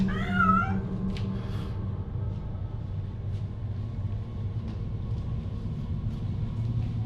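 A cat named Clara gives a short, rising meow near the start, then falls quiet while a steady low rumble carries on for the rest of the clip.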